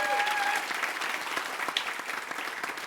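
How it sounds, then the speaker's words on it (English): An audience at a music-industry panel gives a round of applause, a full, close burst of clapping that thins slightly over time, with a brief tonal whistle or feedback near the start. "Nice round of applause."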